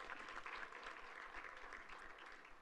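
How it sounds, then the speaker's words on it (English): An audience at a panel event claps for a panelist, a dense, even patter of many hands sustained throughout, fairly faint and distant. "Let's give her a big round of applause"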